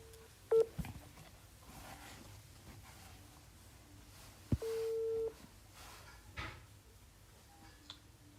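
A telephone is dialed: a few short tone beeps at the start, then a longer held tone midway, quiet and sparse against a near-silent room with faint knocks.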